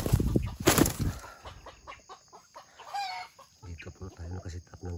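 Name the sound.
junglefowl clucking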